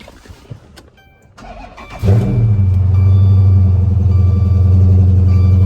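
A Dodge Charger SRT8 with a 6.4 Hemi V8 in rough condition cranks and fires up, settling into a loud, steady, throaty idle up close after a few quiet seconds.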